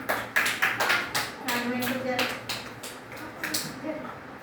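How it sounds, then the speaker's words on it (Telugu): Children clap their hands together, a run of sharp, uneven claps near the listener, with voices talking over and between them. "Very good. క్లాప్స్ కొట్టండి."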